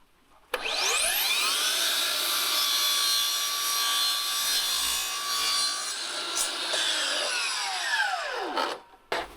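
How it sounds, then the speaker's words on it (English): Power miter saw cutting through wooden skirting board: the motor whines up, the blade bites and cuts steadily for several seconds, then the tone falls away as it spins down, loud and close with no talking. "what we want to do is drop the miter saw this way"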